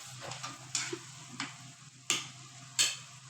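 Minced meat cooks in a pan, stirred with a spoon that scrapes and clicks against the metal in several sharp strokes over a faint, constant sizzle, close and fairly quiet.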